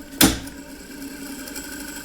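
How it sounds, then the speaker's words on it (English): A Philips N 4502 vintage reel-to-reel tape recorder with its motor running, a steady close mechanical hum with faint regular ticking, opened by a short sharp click. "So the motor is working all the time."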